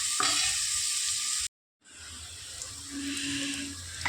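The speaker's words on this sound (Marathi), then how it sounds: "यात आता कांदा, लसूण आणि कढीपत्ता टाकून कांदा गोल्डन ब्राऊन होईपर्यंत शिजवून घ्यायचा आहे" Onion, garlic and curry leaves fry in a pan with a steady close sizzle, cut by a sudden silent gap of about a third of a second, then the crackling resumes at a softer level.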